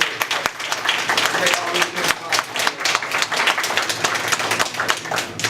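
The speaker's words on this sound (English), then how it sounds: "let's give a round of applause real quick to all of them" Applause from an audience at a youth orchestra event runs steadily for several seconds, a dense wash of many hands clapping, with voices and talk mixed in under it.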